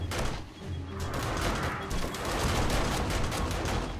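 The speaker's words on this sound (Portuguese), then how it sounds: "Duas torretinhas segurando até agora." Automated turrets in 7 Days to Die fire in dense, rapid bursts during a blood moon base defense, a near continuous crackle of gunfire with no talking.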